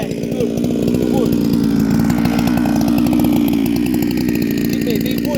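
Bradley G395xp clone chainsaw with a 404 full chisel chain cutting solid timber, engine roaring loud and steady at close range for the whole stretch with no pauses.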